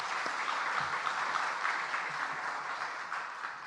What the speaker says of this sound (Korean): 우리 성령님께 우리가 감사의 박수를 올려드립시다